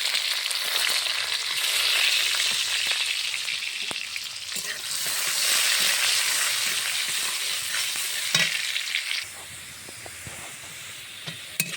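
Whole spices fry in hot oil for a tempering in a pot of dal with goat-leg curry and pumpkin shoots. A loud, continuous hissing sizzle with crackles and stirring knocks runs throughout, easing slightly near the end.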